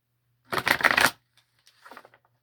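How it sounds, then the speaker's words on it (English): A quick riffle of cards shuffled up close, followed by a softer, shorter burst of card flicks in an otherwise quiet space. "Literally, I'm shuffling it"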